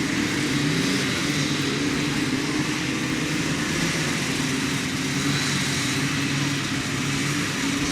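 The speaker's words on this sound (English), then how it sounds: "Originally designed for the Rotax 503 engine, it's 50 horsepower, twin cylinder air cooled." An ultralight aircraft with a 50-horsepower, twin-cylinder, air-cooled Rotax 503 engine running on a standard exhaust drones steadily and loudly throughout, with a constant buzzing tone and no break.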